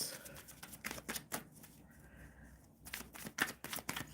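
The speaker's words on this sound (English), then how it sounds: "Shuffling for Nelia Medeiros." Tarot cards being shuffled during a live card reading, a quick run of soft, crisp riffling flicks with a short pause in the middle, quiet and close, no voices.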